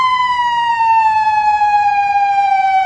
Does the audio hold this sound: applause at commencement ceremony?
no